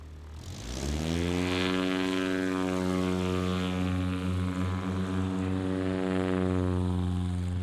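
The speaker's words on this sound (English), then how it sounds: "He beat that takeoff by 20, 25 feet, I think." A STOL propeller airplane makes a takeoff pass during National STOL qualifying in Central Florida. Its engine drone swells quickly after a quiet start and then holds loud and steady, its tone rising slightly.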